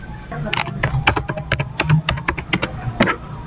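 Rapid clacking keystrokes on a computer keyboard while configuring a Cisco switch, a quick irregular run of close, crisp taps over about three seconds, ending with a press of the enter key.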